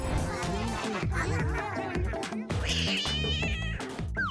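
A cartoon cat meows repeatedly in drawn-out, wailing cries with high pitch swoops, close and loud, with musical tones and brief voices around it.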